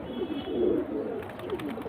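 Pigeons give soft, rolling coos close by, a low burbling murmur repeating over a quiet background.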